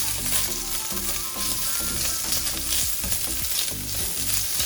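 Chicken pieces frying in a pan for a restaurant-style hot and sour soup, a dense, loud sizzle with scraping stir strokes throughout, close up and without talking.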